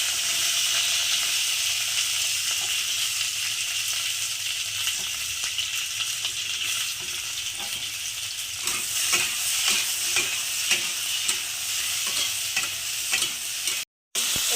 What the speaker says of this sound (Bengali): তো আমি এটাকে একটু হালকা খালি সাঁতলে নেব, ভাজবো না কিন্তু পুরোপুরি, খালি সাঁতলে নেব।